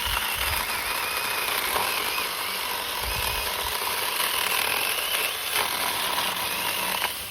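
A Saker mini chainsaw cuts steadily through wood, a continuous high mechanical whine with a gritty buzz that holds through the whole stretch, close and fairly loud.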